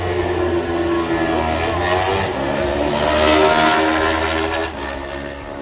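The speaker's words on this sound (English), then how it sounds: "From Australia, Josh Brooks on the Dapperbeck Racing Kawasaki" A Kawasaki superstock racing motorcycle is at full throttle on the Isle of Man TT road course. Its engine note is a loud, steady high-revving roar for several seconds, swelling slightly as it passes and easing off toward the end.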